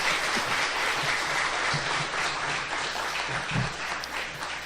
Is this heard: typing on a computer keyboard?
no